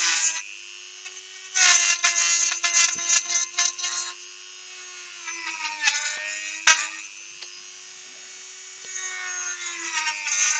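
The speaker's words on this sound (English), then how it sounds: "Trouble is with a Dremel, if you ain't careful, it will run away with you." A Dremel rotary tool shapes a wooden wand, its high, steady motor whine running throughout, with bursts of harsher buzzing and grinding as the bit bites into the wood, then easing back to a thinner hum.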